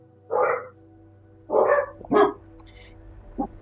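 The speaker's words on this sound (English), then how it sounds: "You guys can hear the barks?" Dog barks in the game Genshin Impact, three or four short, mid-pitched woofs spaced unevenly over a few seconds, the last one fainter, over a low steady background hum.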